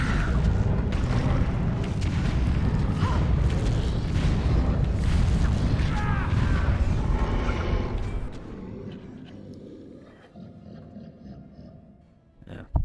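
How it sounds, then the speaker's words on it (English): Rock barrage spell striking in the Dragon Age video game, a long heavy rumbling roar of crashing impacts, loud and close, that holds for several seconds then drops away into a quieter tail with faint scattered clatter. "That rock barrage is really good."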